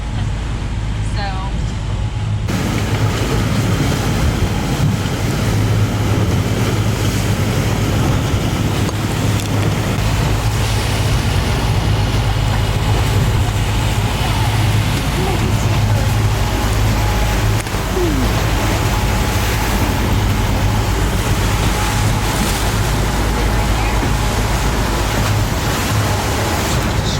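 A sailboat crossing the Gulf Stream rides through waves, with a steady, unbroken wash of water and wind noise that holds the same level throughout, with no distinct slams against the hull.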